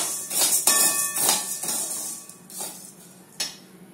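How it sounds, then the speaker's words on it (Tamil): Urad dal is stirred while roasting in a pan on the stove, with scattered metallic scrapes and clinks of a spoon against the pan and a faint dry rustle between them. "உளுத்தம்பருப்பை நல்லா செவக்க வறுத்துக்கணும்."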